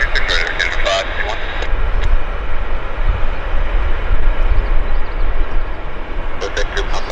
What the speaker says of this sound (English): There's the Qatar now. Qatari flight.